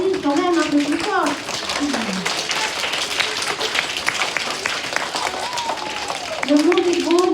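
Children clap together to applaud God for creation at a gathering, scattered quick claps mixed with kids' voices and an adult speaking over them, fairly close and lively.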